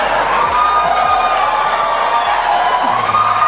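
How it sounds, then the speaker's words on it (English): A steady crowd roar with cheering, continuous and fairly loud throughout, no distinct voices standing out. "Listen to the crowd cheer."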